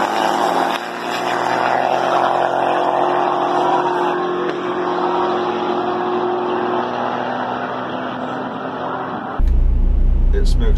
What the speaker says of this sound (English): When I drag race my truck